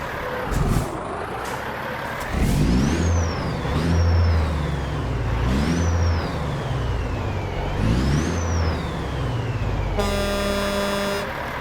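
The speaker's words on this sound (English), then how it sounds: "We're going to start this truck up and see how it sounds." A Freightliner FLB truck mod in American Truck Simulator cranks and starts up, then idles with a low engine rumble, accompanied by repeated air hisses and a rising whine, ending in a steady electronic beep pattern.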